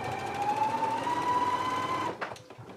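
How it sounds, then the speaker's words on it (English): A sewing machine runs a steady whirring stitch along a seam, quiet and close, with a faint rising whine, then stops abruptly near the end, leaving a couple of soft handling clicks. "go ahead and take it to your sewing machine. Now you're going to stitch following along your basting stitch"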